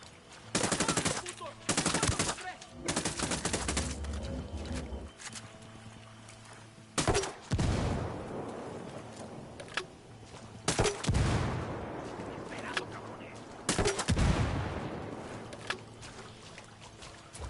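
Automatic weapons fire in the tactical shooter Ghost Recon Wildlands comes in loud, rapid bursts separated by quieter stretches of game ambience and distant echoing shots.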